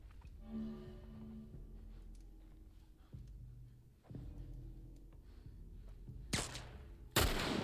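Rifle fire in The Last of Us Part 1, with a few sharp shots spaced several seconds apart amid low game ambience, ending in two louder bursts close together.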